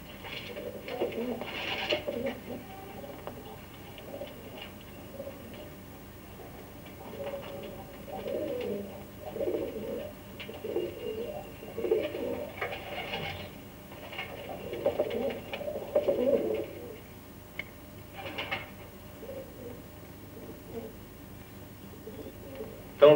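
Racing pigeons coo in bursts at a pigeon loft in a mining town on an early Sunday morning, soft throaty calls recurring irregularly at moderate distance while someone narrates over them.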